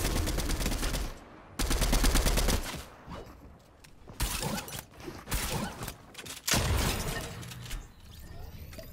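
Rapid rifle fire from the shooter game Fortnite crackles in several loud bursts, some long and sustained, others short, with mechanical clatter in the quieter gaps.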